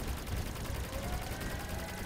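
A spun-up barrel gun firing continuously in the Crossout vehicle combat video game, a dense rapid stream of shots with a rising whine running underneath, loud and sustained.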